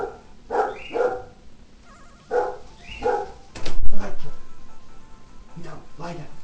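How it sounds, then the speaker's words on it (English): An indoor dog barks in a few sharp bursts, two pairs of loud barks followed by a thump and quieter movement, with a voice faintly present near the end. "the dog decided there was something outside that needed to be barked at"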